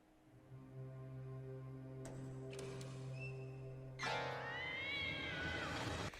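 A cat in a horror video game lets out a loud drawn-out meow over a low droning, humming background with a faint ticking, the cry rising and then falling away near the end.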